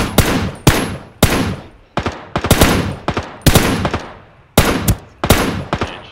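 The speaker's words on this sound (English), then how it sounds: "I'm pulling out my M4" An M4 rifle firing in Ring of Elysium, about a dozen sharp, loud, close shots in quick uneven bursts, each with a short decaying tail, with no talking.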